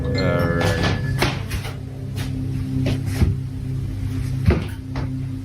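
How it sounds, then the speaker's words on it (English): A door opens indoors at night in a scary ghost clip, giving a series of soft knocks and clunks along with a faint creak over a steady low hum. "Doors opening."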